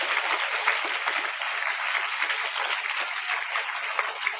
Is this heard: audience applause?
yes